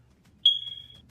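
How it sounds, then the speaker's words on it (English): One sharp, high-pitched electronic beep from a smoke detector, close and clear, ringing for about half a second over a faint low hum. "I want the fire alarm beep beep."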